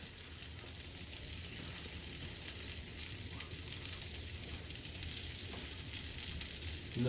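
Sweet potato gnocchi frying in browning butter in a pan gives a soft, steady, crackling sizzle heard close and fairly quietly, with no voices over it.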